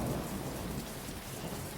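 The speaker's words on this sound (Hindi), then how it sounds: "तेज बारिश हो रही है" Heavy rain pours down in a steady, dense hiss with a low thunder rumble beneath, filling the scene of a cartoon story, with no voices.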